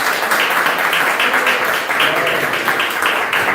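Congregation clapping loudly in a church service, a dense, close burst of many hands in irregular rhythm sustained throughout.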